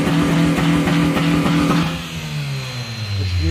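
A supercharged 2020 Chevrolet Camaro ZL1 with a ported supercharger and long-tube headers revs hard and close at a car show, with pulsing bursts before the engine falls away into a lower idle.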